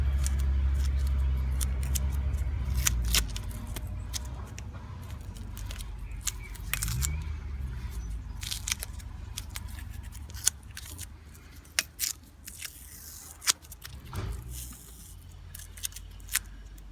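Reinforcing tape torn off a roll and wrapped tightly over a repair on a Nissan Qashqai dCi, giving close, sharp snipping and crackling bursts that thin into scattered clicks and ticks, with no talk.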